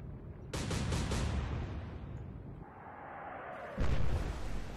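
Heavy naval guns from the Battle of the River Plate in Atlantic Fleet fire as a deep booming salvo that rumbles away, followed by another loud blast.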